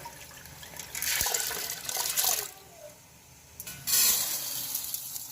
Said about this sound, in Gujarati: એ રીતે આપણે બધી દાળ બી ધોઈ કાઢવાની છે બે પાણીથી